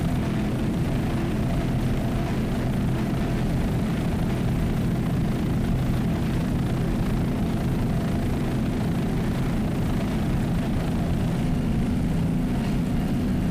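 Helicopter flying over an offshore powerboat race, a steady, dense engine and rotor drone mixed with boat noise that holds at an even loudness throughout.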